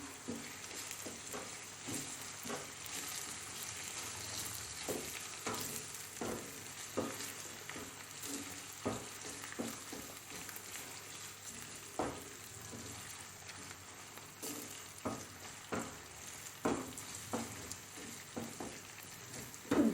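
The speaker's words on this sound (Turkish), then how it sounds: "Salçamızı da güzelce kavuralım." Tomato paste sautéing in a pan while stuffed grape leaves are being prepared, a steady close sizzle and frying crackle broken by repeated scraping stir strokes.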